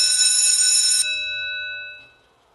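A voting bell rings on a legislative House floor: one sustained, bright electric ring for about a second, then a clear tone that lingers and fades away, with no voices over it.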